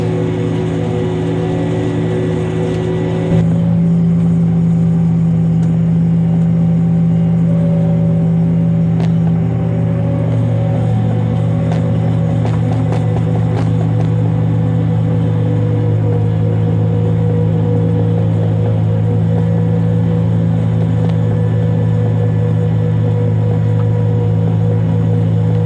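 A Case IH WDX 1701 windrower works a field of oats new seeding, its engine giving a steady, loud, close rumble and whir that continues unbroken throughout, with no voices.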